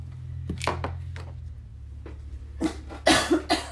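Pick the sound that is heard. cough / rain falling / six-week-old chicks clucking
cough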